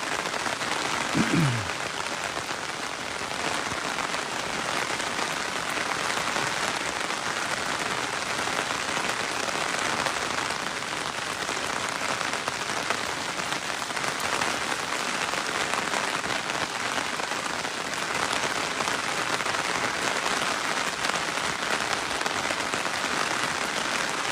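Steady rain falls over a check dam on a dredged canal, a dense, even hiss of drops that holds at the same loudness for the full stretch, with no voices.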